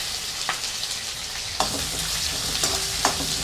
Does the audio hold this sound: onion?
yes